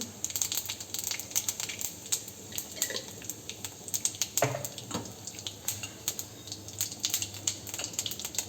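Cumin seeds crackle and spit in hot oil while a pumpkin bhaji cooks, giving a dense run of quick, close, irregular pops and sputters over a constant background sizzle.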